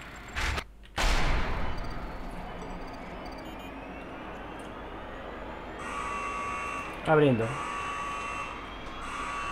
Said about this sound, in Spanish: Y una alarma que no me gusta.